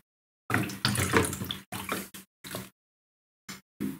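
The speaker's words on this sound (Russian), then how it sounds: "Вышла вода." Water gushes and splashes out of the drain filter hatch at the bottom of an LG washing machine, in several irregular bursts of rushing flow separated by silent gaps, close by with no talking.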